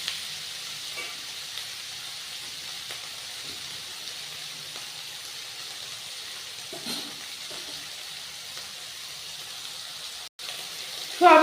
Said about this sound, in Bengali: এবার এটা আমি ভেজে নেব সোয়াবিনটা ভালো করে।